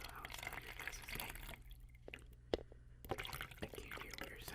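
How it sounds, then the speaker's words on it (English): Liquid poured into an ear, close wet dripping and trickling with small splashes and a sharp drop sound, faint and intimate with brief quieter gaps. "let me go into this ear as I pour in the other ear"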